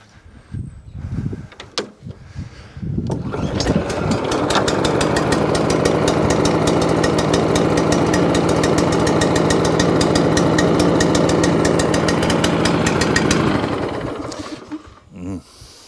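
A scrap lawn mower's small engine starts after a few cranking pulls and runs loud and steady for about ten seconds, then winds down and cuts out.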